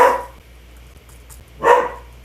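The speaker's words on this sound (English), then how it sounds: "If you can hear my dog barking," Two separate dog barks roughly a second and a half apart, moderately loud with a steady low hum underneath, indoors at home as someone passes outside the house.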